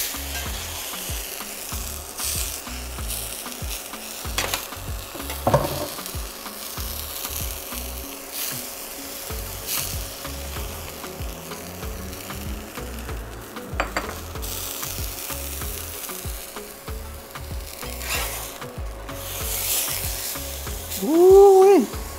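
A birria quesa taco basted with consommé sizzles in a hot pan, a steady crackle running throughout with a few scrapes and taps, and a louder burst of sizzle near the end.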